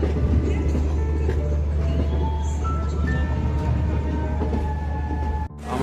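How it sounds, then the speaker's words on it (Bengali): A train pulling into Santragachi Junction station gives a loud, steady low rumble of wheels and carriages, with faint tonal squeals from the track throughout and a brief dip near the end. "আমাদের এই ট্রেন তার যাত্রাপথের প্রথম স্টেশন সাঁতরাগাছি জংশনে এসে পৌঁছালো"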